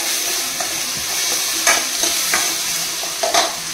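Tomato masala fries in a pan with a continuous close sizzle. A few soft spatula scrapes and taps stand out now and then.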